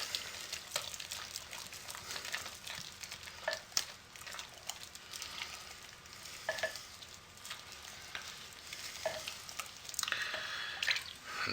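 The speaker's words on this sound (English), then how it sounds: "I'm just going to keep stirring it for a little while." Hot process soap stirred in a pot with scented fragrance mixed in, a close, irregular series of wet squelches, scrapes and soft sloshing.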